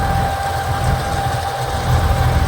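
A New Holland 3630 Special Edition tractor engine runs at a steady low drone, loud and constant throughout with a faint hum on top.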